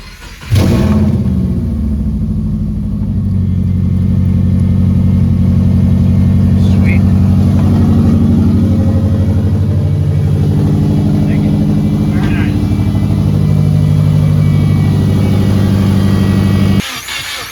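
A Subaru fitted with an engine bought on eBay cranks and fires, then runs loud and steady close by at idle with slight revs before cutting off, with brief talk nearby.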